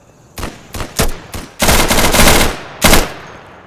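Machine gun fire in the shooter game Insurgency, heard as several short loud bursts followed by a longer sustained burst and one final burst, close and without talk.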